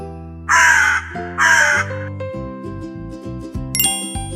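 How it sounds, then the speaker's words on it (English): Two loud, rasping crow caws sound close up in quick succession, then give way to a run of bright chiming and ringing notes. "crow"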